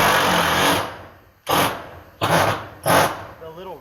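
Screws with rubber washers are driven into the roofing of a firewood shack, a power driver whirring in three or four short, loud bursts close by, with a person talking between them.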